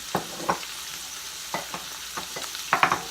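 Cabbage stew with vegetables simmers and fries in a pan, a soft close sizzle broken by several sharp scraping stirs and clinks, with no talking.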